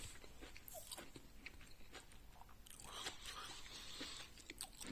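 Crunching bites of roasted Chinese chinquapin, a small one-seeded chestnut that is underroasted and cooled, with close, repeated dry crunches and chewing throughout.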